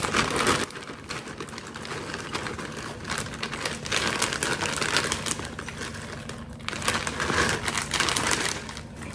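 A plastic ramen dressing packet crinkles and rustles as it is handled up close, in irregular crackly bursts lasting several seconds with brief pauses and no talking.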